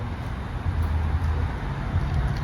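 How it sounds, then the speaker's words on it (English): Outdoor ambience of a steady low rumble from passing cars mixed with a soft natural background, continuous and even with no voices. "And right now, you can hear all the ambiance, cars, the nature,"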